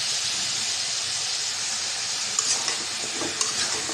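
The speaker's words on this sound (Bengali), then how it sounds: "মশলাটা কষানো হয়ে দিয়ে দিলাম মিষ্টি কুমড়া।" Sweet pumpkin pieces fry in hot oil with chilli and turmeric spice paste, a dense, loud, continuous sizzle with a few scraping stirs toward the end and no talking.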